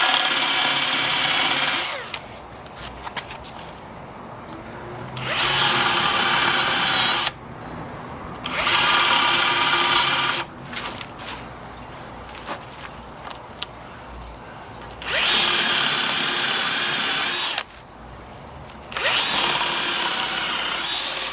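A power drill drives screws into posts for a koi pond, running in several loud, steady bursts of a few seconds each, separated by short quiet gaps with faint handling noise.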